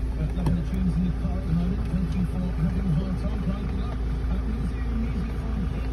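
A Ford Transit Custom MS-RT engine idles after a cold start, a steady close low drone with a wavering, pulsing hum and no talk over it.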